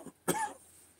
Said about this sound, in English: It's constant tickling at the right at the top of my throat. You want to cough it out.